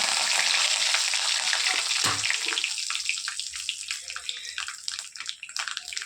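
Cumin seeds and curry leaves hit hot oil with a loud burst of sizzling that gradually settles into a crackling, spitting fry, close and without talk.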